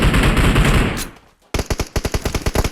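Gunfire in PUBG Mobile, a loud close burst of rapid shots, a brief pause, then a crisp string of about a dozen evenly spaced automatic rounds, no speech.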